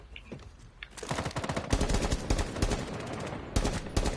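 Automatic gunfire in Rainbow Six Siege, shot through a bathroom wall: rapid, loud bursts of bullets that start after a few quiet clicks, then a sustained volley with short pauses, close and alone.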